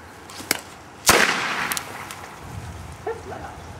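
A homemade firework, a tennis ball packed with magnesium, sparkler dust, matchsticks and strike paper, goes off outdoors: a small pop, then a sharp loud bang with a rushing, crackling tail that fades to faint voices.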